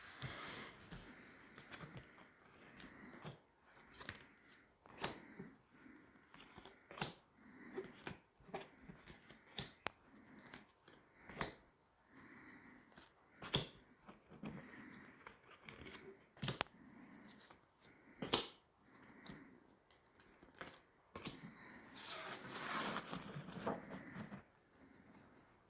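Tarot cards being drawn and laid out one by one, soft papery slides, flicks and taps scattered irregularly across a quiet room, fairly close but faint.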